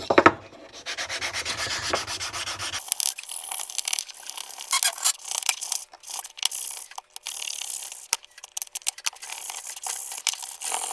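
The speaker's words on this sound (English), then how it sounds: "I'm just gonna sand it by hand just to make it simple. We're using 80 grit." A wooden board sanded by hand with 80 grit sandpaper, loud scratchy back-and-forth rubbing strokes in an irregular rhythm, close up and alone.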